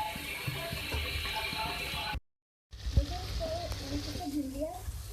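Two cups of water pour into a cooking pot with a steady rushing splash. The pour breaks off briefly, then resumes, and someone speaks over it.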